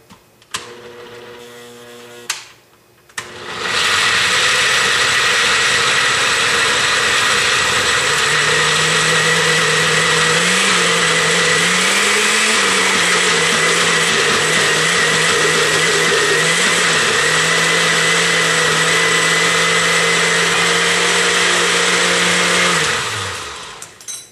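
Loud, steady whirring of a blender pureeing chickpeas into hummus, running for about twenty seconds with a sustained motor hum that shifts pitch slightly as the mixture thickens, then winds down at the end.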